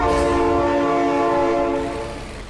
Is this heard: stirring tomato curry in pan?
no